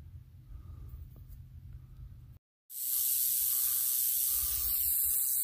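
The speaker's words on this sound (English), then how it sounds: "This is a Mojave Green Rattlesnake." A Mojave green rattlesnake rattles with a loud, harsh, continuous buzzing hiss that starts abruptly after a brief silence and holds steady to the end, following a stretch of quieter low rumble.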